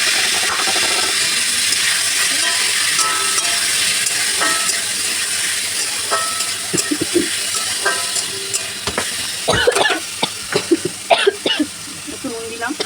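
Green chillies poured into hot oil, a strong steady sizzle close up, later broken by sharp spattering pops and a few clanks of a utensil, with a voice and a cough heard over it.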